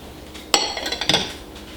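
Chopped onions dropped into a soup pot for beef vegetable soup, a short clattering burst of several quick knocks and clinks against the metal pot, close and alone.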